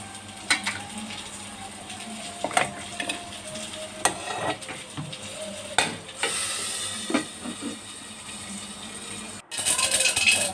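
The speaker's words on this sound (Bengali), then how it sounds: "নেড়ে চেড়ে খুব সুন্দর করে লালচে করে আলুর টুকরোগুলোকে আমি ভেজে নেব।" Pieces of potato fry in oil until reddish-brown with a steady sizzle, interrupted by scraping and stirring clicks from a spatula, close by and moderately loud.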